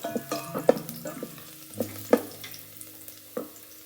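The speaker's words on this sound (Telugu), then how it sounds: "కొంచెం ఆయిల్ గార్లిక్ ఫ్రై చేస్తే ఆ ఆయిల్కి గార్లిక్ ఫ్లేవర్ వచ్చి బాగుంటుంది" Garlic frying in a little oil for a minestrone soup gives a soft, steady sizzle, broken by sharp clinks and scrapes of a spoon stirring the pan.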